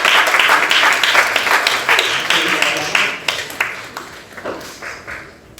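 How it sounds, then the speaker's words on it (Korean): Applause from a middle-school church congregation for a student honored for reading the whole Bible, a steady burst of clapping that thins and fades toward the end. "큰 박수 해주세요"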